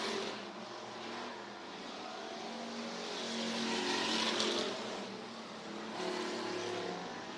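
Bomber and hobby stock race cars in a heat race at Worthington Speedway: a broad engine roar that swells as the pack passes down the back straightaway, then eases off, with no talking.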